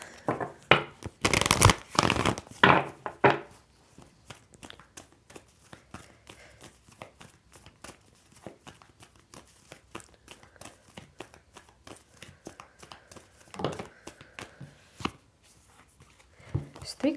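Tarot cards riffled and shuffled by hand in a quick run of dense, crisp flicks, loudest near the start, then lighter card taps and slides continue close up with occasional louder bursts.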